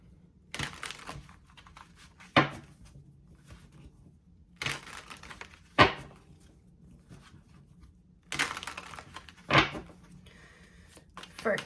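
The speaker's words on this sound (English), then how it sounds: "Let me give these a good shuffle." Three bursts of tarot cards being shuffled, each a quick riffle ending in a sharp snap, separated by near silence, close and fairly quiet.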